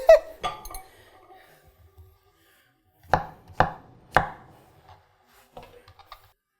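A Dragon Fire nakiri knife chopping vegetables for stock on a cutting board, sparse sharp chops: a few early cuts, then three distinct loud thwacks in a row, followed by softer taps, close and alone.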